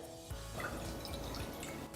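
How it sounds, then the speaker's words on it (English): Regular milk is poured into a pan or bowl for a sauce, making a soft, close trickling and dripping sound that is quiet and alone, with no talking. "This is regular milk. So I'm just gonna pour it here."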